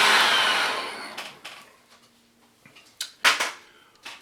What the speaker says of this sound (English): I'm going to take this hair dryer and I'm going to make sure that this is still pretty sticky